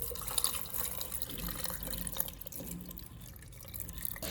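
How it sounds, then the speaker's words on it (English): Water poured into a jar of lemons, a continuous close splashing and trickling stream with small drips, steady and unaccompanied by talk. "Pour in water until they were fully covered."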